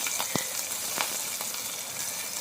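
Whole spices sizzle in hot oil with onions and green chillies for a vegetable pulao in a pressure cooker, a steady close frying hiss broken by a few sharp clicks of stirring.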